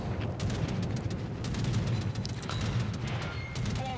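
Battleship Kongo in World of Warships firing high-explosive shell salvos, a dense rumbling barrage of booms and distant gunfire rolling continuously at moderate loudness with no talk over it.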